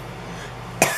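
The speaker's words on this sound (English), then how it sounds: "I've been coughing ever since I had COVID." A single sharp cough bursts out near the end after a stretch of quiet room tone, close and loud, from a person with a lingering post-COVID cough.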